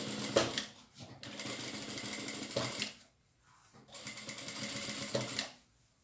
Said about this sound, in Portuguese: Faço a costura de fechamento bem na pontinha.